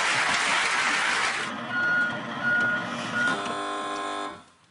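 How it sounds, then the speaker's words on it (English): A lorry's reversing alarm beeps steadily at close range, a repeating electronic tone standing out clearly after a burst of broad noise, with no voices over it. "The guy who invented that noise, which is the sound of a lorry reversing"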